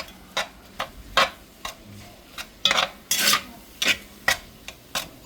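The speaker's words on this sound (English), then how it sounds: "But you just keep on chopping it till it's brown." Ground beef and pork, half and half, browning in a pan while a utensil chops it up, giving repeated short scraping, rasping strokes in an irregular rhythm over a faint sizzle, close and alone.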